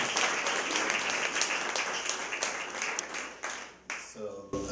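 An audience applauds to welcome a conceptual artist onto the stage, a steady, full round of clapping that thins out and fades near the end as a voice begins.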